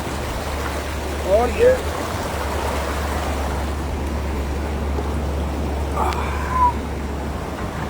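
Floodwater in Haldwani/Kathgodam rushes in a steady, broad roar close by, with someone talking briefly over the continuous flow and a low hum underneath.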